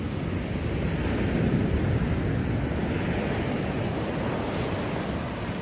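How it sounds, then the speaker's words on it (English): Ocean surf roars steadily with waves breaking close by, a continuous wash of noise with some wind buffeting and no voices. "Look at the water breaking right here in front of me"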